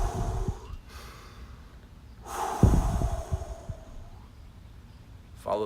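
Slow, deep breathing during a guided seated meditation: a soft inhale and a louder, fuller exhale through the nose, close and alone with no talking.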